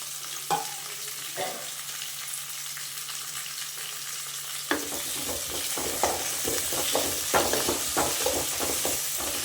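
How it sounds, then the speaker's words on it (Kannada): Grated coconut and masala fry in oil in a pan while palak paneer is being made. The pan sizzles softly, and after a quiet start a spoon scrapes and stirs in repeated close strokes. "ಚೆನ್ನಾಗಿ ಇದನ್ನೆಲ್ಲ ಒಂದೇ ಸಲ ಹಾಕೊಂಡು ಹಸಿ ವಾಸನೆ ಹೋಗೋವರೆಗೂ ಚೆನ್ನಾಗಿ ಈ ರೀತಿ ಫ್ರೈ ಮಾಡ್ಕೊಳ್ಬೇಕು"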